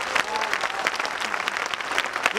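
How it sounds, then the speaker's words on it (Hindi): Audience applause welcoming the women at a political rally in India, a dense, steady wash of many hands clapping close and loud, with crowd noise mixed in and faint voices underneath. "तालियां बजाकर स्वागत करो बहनों का"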